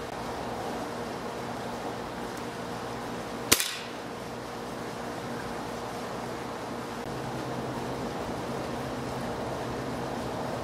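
A Gamo Socom air rifle fires a single Gamo Rocket pellet into a 2x4 board, one sharp crack with a brief ringing tail, set against a steady outdoor hiss.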